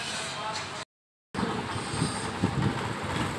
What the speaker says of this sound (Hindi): इंजन का साउंड चेक कर लें